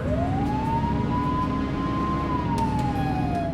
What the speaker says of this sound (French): Ah, ils respectent la sirène,